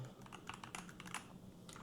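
Rapid clicking keystrokes on a wireless gaming keyboard, a quick irregular patter of many close, soft-to-moderate key presses with no talking.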